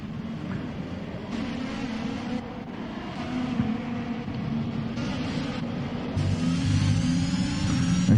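Several racing cars run close together in the F1 2021 video game at the Mexican GP, engines droning steadily at mid loudness and swelling louder toward the end, with no voices.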